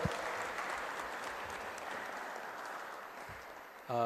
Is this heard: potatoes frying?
no